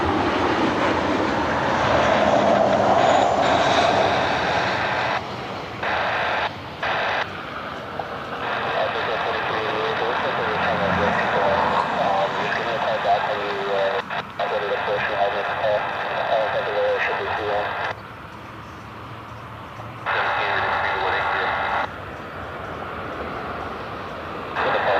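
American Airlines airliner passing at Cleveland Hopkins airport, a loud sustained jet engine roar that holds for many seconds with some fluctuation, while someone talks over it.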